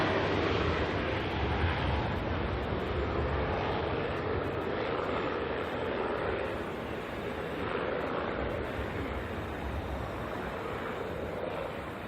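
A Cessna flies low straight overhead near Auckland Airport, and its engine gives a loud, broad roar that holds steady throughout and fades only slightly toward the end.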